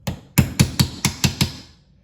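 Seven sharp metallic taps as a drift punch drives a crankshaft seal into a Husqvarna chainsaw crankcase, evenly spaced, close and loud, with no voices.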